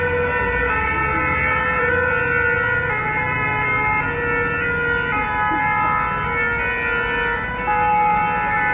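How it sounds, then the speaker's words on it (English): Ambulance sirens wail loudly and continuously down a street in Nice, France, after a truck attack, their layered tones holding steady and close with traffic rumble underneath and no talk. "Another ambulance."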